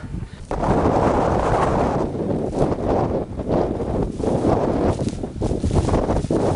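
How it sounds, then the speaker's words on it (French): Strong wind roars across Aconcagua at about 6250 metres, buffeting the microphone in loud, uneven gusts that swell and ease without pause. "Et du vent, toujours du vent, rien que du vent."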